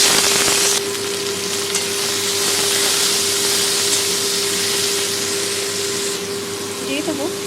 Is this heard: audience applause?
no